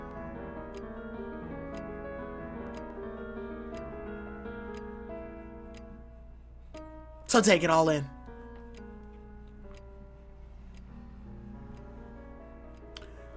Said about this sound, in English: Lulled by the ticking of the clock